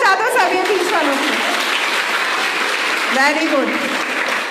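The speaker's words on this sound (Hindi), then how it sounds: "चलो एक बार तालियां बजा दो सब ये बीच वालों की।" Students at a girls' inter college in Dehradun applaud during a Harela tree-planting event, a broad burst of clapping that continues under a speaking voice.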